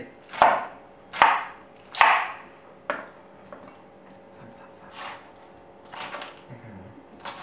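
A knife chops down through cabbage onto a board three times in sharp, evenly spaced strokes, followed by quieter scattered cuts into strips and clatter.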